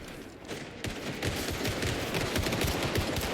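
Gunfire in the Indiana Jones and the Great Circle video game builds into dense, rapid bursts of automatic shots, loud and sustained, with no voices over it.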